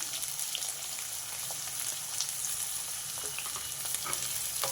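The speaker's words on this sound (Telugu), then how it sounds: "కట్ చేసి పెట్టుకున్న పచ్చిమిర్చి ఉల్లిపాయలు వేసేసా" Green chillies and chopped onions sizzle and crackle in hot tempering oil with mustard seeds and cumin, a steady close frying hiss with small pops and occasional stirring, no voices.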